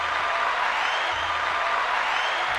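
Steady, uniform applause sound with a crowd-like wash, continuous and even throughout, with no distinct individual claps standing out.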